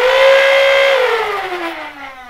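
Flywheel motors of a Nerf Rapidpistol blaster with stock 180 motors spinning up to a steady high whine, then winding down with a falling pitch, close and alone.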